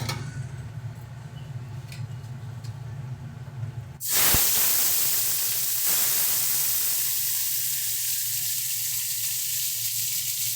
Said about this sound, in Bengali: এবারে আমরা চিংড়ি মাছটা দিয়ে এর মধ্যে ভেজে নিচ্ছি তেলটা ভালো মতন গরম হয়ে গেছে